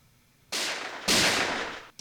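Recreated gunshot sound effects in a drum and bass track: two loud, sustained noisy blasts in quick succession, each bursting out sharply and then holding as a broad hiss before cutting off.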